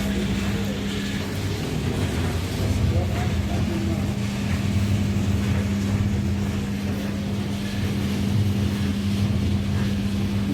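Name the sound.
gas sesame and peanut roasting machine motor running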